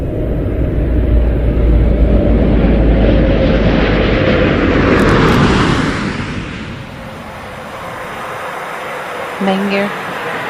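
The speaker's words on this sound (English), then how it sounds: "And they are on final glide path right now. 30 seconds until touchdown." A NASA Space Shuttle on its final glide path before touchdown makes a loud, broad rushing roar that swells and then fades, with a brief tonal beep near the end.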